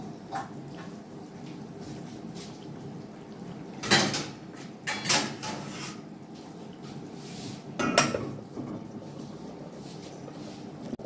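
A pot lid is set on a pot of flat bean and potato curry. A few distinct metallic clanks ring out over a quiet kitchen background, close and with no talking.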